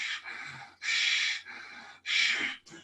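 Ujjayi yoga breathing demonstrated by an instructor: three long, hissing, throat-constricted breaths, each with a louder inhale phase followed by a softer exhale, close to the microphone with short pauses between.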